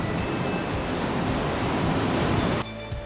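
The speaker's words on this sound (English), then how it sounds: "you can feel the wind coming out when the waves come in" Ocean waves rush at a blowhole on a Tahiti shoreline, a steady wash of surf noise that changes abruptly near the end.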